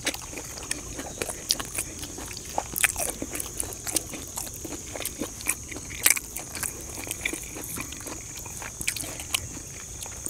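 Crispy pork crackling is bitten and chewed outdoors in a rice field beside fresh vegetables. Close, repeated crunches come in an uneven rhythm over a steady high insect drone.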